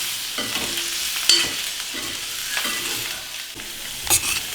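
Coriander leaves being stirred through a frying dish in a pan, with steady scraping strokes over a continuous close sizzle and a few louder clinks of the spoon against the pan.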